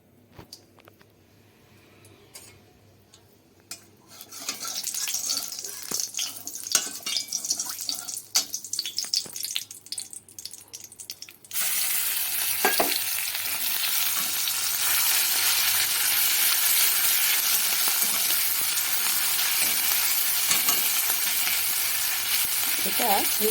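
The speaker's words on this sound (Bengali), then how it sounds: "যে বাটাটা আমি বেটে রেখেছি এটা আমি আবার কড়াইতে ভেজে নেব" Ground spice paste frying in hot mustard oil in a wok, starting as a faint crackle with scattered stirring scrapes, then swelling into a steady, loud, close hiss that holds to the end.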